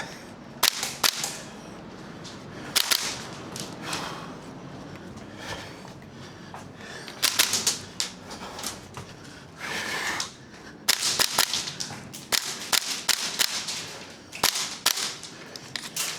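A gas-powered Salvo Precision MWS MCX airsoft rifle fires in sharp, loud cracks, single shots and short clustered bursts spaced by pauses, each with a brief hissing tail.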